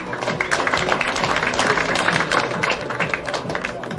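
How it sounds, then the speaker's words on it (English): Dense, steady applause from a studio audience for a girl modelling an outfit on a late-1990s TV show, with continuous crowd clapping and murmur throughout, loud and without breaks. "let's give this girl a big round of applause"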